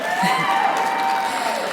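Awards-ceremony audience cheering and applauding steadily, with a continuous wash of crowd noise and a few whoops, talk faintly mixed under it.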